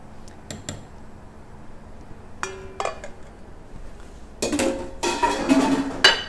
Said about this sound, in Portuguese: eu coloco mais uma concha aqui do feijão e limpo toda a minha frigideira